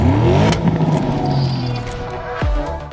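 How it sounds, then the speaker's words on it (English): A Porsche Cayenne GTS V8 sport exhaust revs and burbles up close, with a sharp rising blip near the end and some mechanical clatter. "The Cayenne GTS comes with a specifically attuned sport exhaust system fitted as standard."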